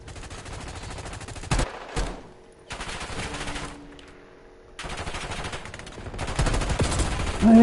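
Gunfire in Call of Duty Cold War: loud bursts of automatic fire broken by brief silences, one burst after another, then a sustained stretch of shooting near the end.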